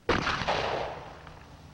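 A single loud revolver shot rings out on a 1960s defensive firearms training range, a sharp crack that rolls into a long fading echo with no other sound after it.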